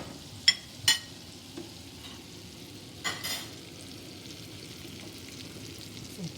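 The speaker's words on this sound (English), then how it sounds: "you see the garlic just to cook little." Garlic frying in a pan over medium heat gives a steady, low sizzle, broken by a few brief clinks and scrapes near the start and a short stir midway.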